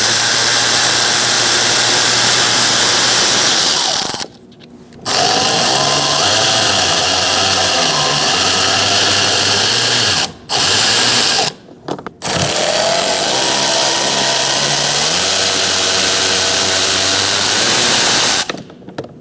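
Power tool with a 7mm socket on an extension spinning out bolts during a 2016-2019 Chevrolet front power window motor and regulator replacement, a loud continuous whirring motor cut by several short pauses between runs.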